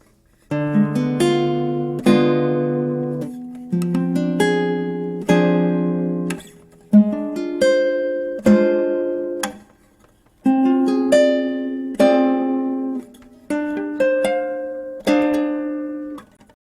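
A guitar plays a slow series of arpeggiated seventh chords, each one rolled and left to ring before the next, clean and close with no talking.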